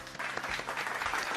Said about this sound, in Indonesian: Kalian tepuk tangan dulu.